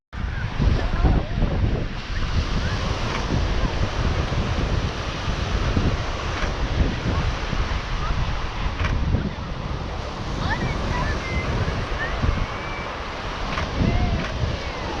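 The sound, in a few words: ocean waves and wind on the beach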